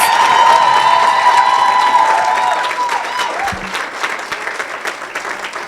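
Women in an event audience clapping and cheering, loud at first and then thinning out over a few seconds, with scattered voices in the crowd.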